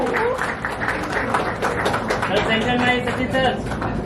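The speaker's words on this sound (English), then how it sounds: "please give a huge round of applause for none other than Sachin Tendulkar" Audience applause at the launch of RRP Electronics' semiconductor facility as Sachin Tendulkar is welcomed, a sustained wash of crowd clapping with voices and cheers mixed in.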